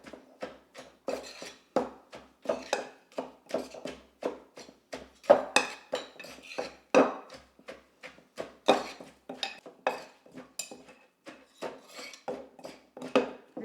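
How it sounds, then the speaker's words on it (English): Repeated pounding and scraping of a pestle mashing green papaya salad in a mortar, a Lao dish, with irregular close knocks and rubs in quick succession and no talking. "I'm gonna mash it together"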